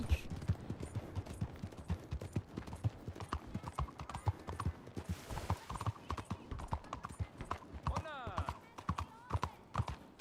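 A ridden horse's hooves clip-clop in a steady, close rhythm as it moves and turns, with occasional snorting and whinnying sounds. A person talks over the hoofbeats throughout.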